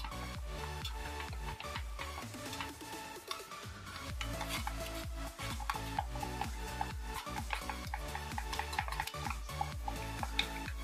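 Watercolour and acrylic paint mixture being stirred, a continuous close scraping and rubbing with rhythmic swishes and small taps against the container, steady throughout, no voices.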